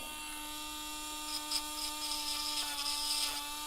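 Dremel rotary tool grinding a Yorkie's nails during grooming, a steady high-pitched motor whine with light grinding bursts as it touches the nail, close and moderately quiet, no talk.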